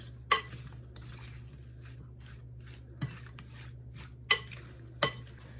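Sliced pears being stirred in a bowl with a utensil for a galette filling, soft scraping under a low steady hum, with a few sharp clinks against the bowl scattered across the clip.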